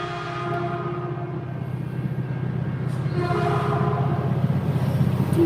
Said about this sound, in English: Hold on, I got a fucking train.